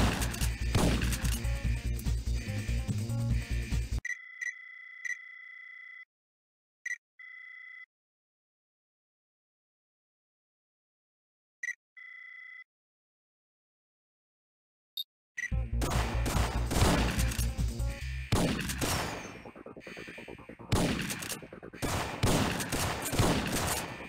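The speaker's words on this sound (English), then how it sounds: "Sounds like you're under fire." Gunfire from a prison riot in the video game Syphon Filter 2, dense bursts of automatic shots at the start and again loudly after a long stretch with only a few isolated sharp cracks and beeps in between.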